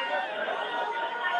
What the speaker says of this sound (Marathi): मोठ्या संख्येनं आता या ठिकाणी जल्लोष सुरू आहे